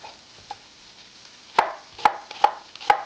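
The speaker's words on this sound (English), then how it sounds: "I'm dicing up a white onion to toss into our risotto" A knife dices a white onion on a cutting board, a faint tap near the start and then four sharp, evenly spaced chops close by in the second half, with no one talking.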